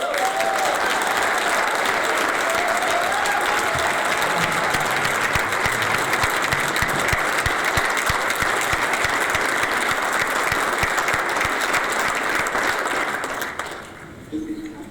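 Loud, sustained applause from a large town-hall audience honoring the uniformed fire department at a Taos, New Mexico State of the Town event, a dense wash of clapping that runs for many seconds before abruptly dying away.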